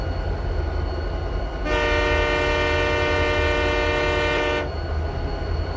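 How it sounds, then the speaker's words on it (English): A Canadian diesel freight train horn from a railway sandbox game sounds one long, steady multi-tone chord for about three seconds against a constant low rumble, cutting off cleanly. "Let's hear the sounds of the horns of those trains"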